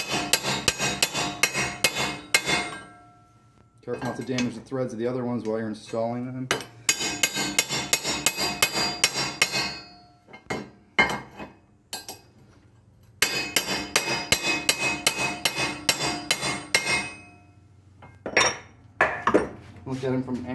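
Bursts of sharp metallic hammer strikes ring out in quick runs, separated by pauses, with someone speaking in between; a hammer and chisel drive spline studs into a Talon 8-inch portal wheel hub.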